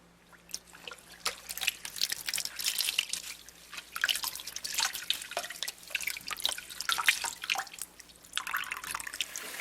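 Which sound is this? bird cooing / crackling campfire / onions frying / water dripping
water dripping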